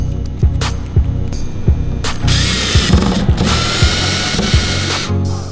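A power drill fitted with a Robertson bit drives a wood screw while mounting a compostable bag dispenser, giving loud, close ratcheting clicks in a steady rhythm with a continuous whirring motor, and no talk.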